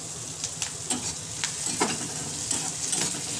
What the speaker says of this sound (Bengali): আর গাজর দেবার পর ভালো করে নাড়তে হবে